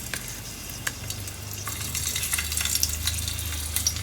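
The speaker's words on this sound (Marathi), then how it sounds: "लसूण कांद्याची फोडणी" Garlic and onion tempering sizzles in a hot pan, a continuous crackling hiss with scattered pops and stirring clatter, growing slightly louder toward the end.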